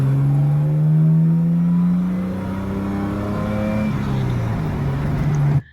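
A recorded car engine revs up through the gears, its droning tone climbing then dipping as the throttle lifts between shifts, loud and close with no talk, cutting off abruptly at the end.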